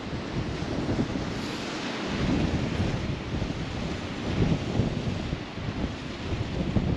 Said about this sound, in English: it's definitely windier over this side. A lot windier.